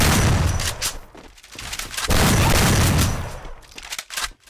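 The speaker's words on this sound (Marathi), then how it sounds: "O, double नळीवाली short gun" A double-barrel shotgun in the Free Fire mobile shooter booms in loud, heavy blasts, two main bursts with rattling follow-up shots and rumbling tails.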